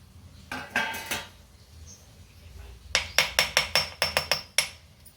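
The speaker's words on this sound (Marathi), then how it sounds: "आता टाकलं की फेटून घ्यायचं" Gram flour and semolina batter whisked in a plate, heard as crisp metallic clinks against the plate: a quick cluster of taps, a pause, then a steady run of about ten sharp strikes.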